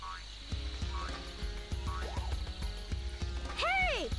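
A frog in the video game Sonic Adventure croaks in a rhythmic series of short pulses over a game soundtrack, ending with a few loud sweeping chirps.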